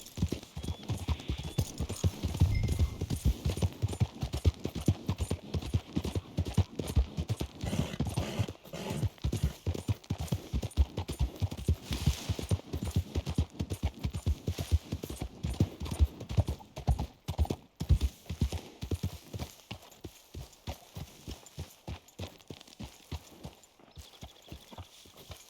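Horse galloping in the Red Dead Redemption 2 video game, a long run of rapid rhythmic hoofbeats, close and loud, with occasional snorting and a slower trot toward the end.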